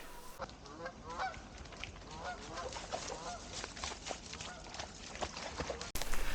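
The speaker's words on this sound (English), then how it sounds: "Some geese just flew over my shoulder" Geese honk repeatedly as they pass overhead along a forest trail, the calls fairly close and layered over steady outdoor background noise with a brief rustle near the end.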